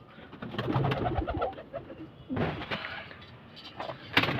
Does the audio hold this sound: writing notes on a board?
no